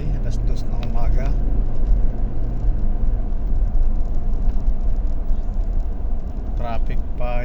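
A car drives home through city traffic at 2 a.m., giving a steady low road and engine rumble throughout while someone talks over it.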